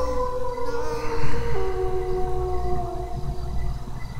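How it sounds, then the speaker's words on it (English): A dog howls in the video game Shivers, a long wavering mournful tone gliding and shifting pitch over several seconds above a low rumbling background. "That was just a dog howling."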